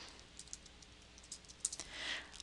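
Faint, sparse clicks of keys on a computer keyboard while entering data into an Excel spreadsheet, a few scattered taps in a quiet room.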